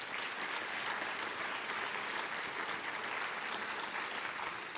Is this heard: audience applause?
yes